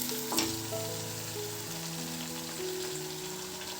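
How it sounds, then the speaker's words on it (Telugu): Ingredients frying in a pan for a Kerala coconut fish curry, a dense continuous close sizzle with a brief stirring clatter near the start, steady and fairly loud, with faint tonal background sounds beneath. "ఒక 5-6 నిమిషాల పాటు ఫ్రై చేసుకోవాలి."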